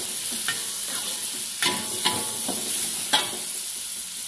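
Hyoko mushrooms and dried salted vegetables stir-fry in a pan with a steady sizzle, while a utensil scrapes and taps against the pan every so often, close and moderately quiet.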